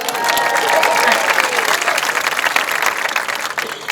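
Ocean City High School class of 2019 cheering and applauding at their graduation, a dense, loud wash of crowd clapping and shouts that holds steady before easing slightly.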